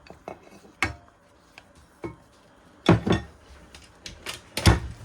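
Sugar and flour are mixed in a bowl for pumpkin donuts, with sharp utensil clinks and knocks against the bowl coming in irregular bursts, close and fairly loud.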